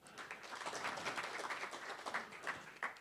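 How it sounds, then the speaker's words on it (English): Quiet, distant applause from an evening audience, a soft continuous patter of many hands clapping at low volume, with no voices over it. "A round of applause."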